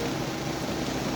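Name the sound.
rain in video game Minecraft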